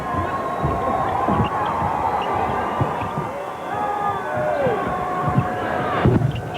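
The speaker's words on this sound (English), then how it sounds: "Crowd yelling, "We want Chuck."" A large arena crowd at a 1996 Olympic basketball game between Team USA and China keeps up a loud, continuous roar and rhythmic chant, with a commentator talking over it.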